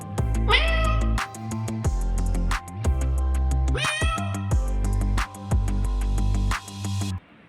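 A newborn white kitten meows repeatedly with thin, high rising cries, close by, over a steady low hum and some background voices.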